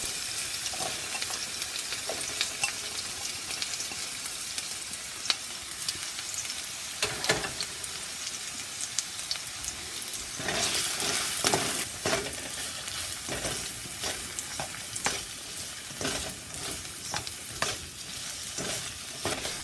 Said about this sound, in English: Step 2. Stir-fry the chicken.